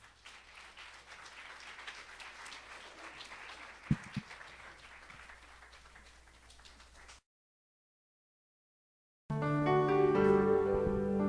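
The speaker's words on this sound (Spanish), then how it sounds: "Den un aplauso al Señor." Church congregation applauding at a Sunday service, a moderate, fairly distant round of clapping that fades out, followed after a short silence by loud music.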